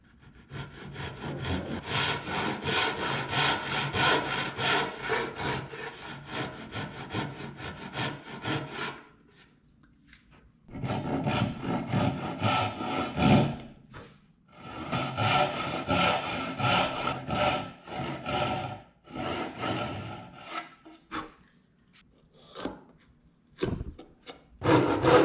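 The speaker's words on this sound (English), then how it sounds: "Next, I'll mark out and saw the dovetails." A hand saw cuts dovetails in wood, producing rapid rasping back-and-forth strokes in long close bursts separated by short pauses.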